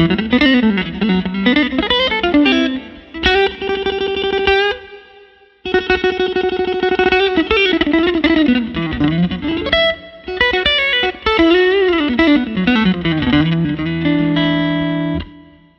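Newport Player T-style electric guitar played with every note picked, bright clean-to-slightly-driven single-note runs and phrases with a brief pause, loud and close.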